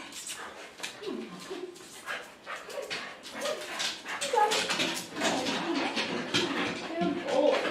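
A Corgi whimpers and growls in short, uneven bursts close by during brushing, with people talking over and around the sounds.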